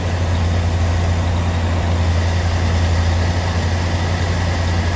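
A Lincoln Mark V engine idles after sitting 27 years, a loud, steady low rumble with a constant drone and no break, close to the car with no talk.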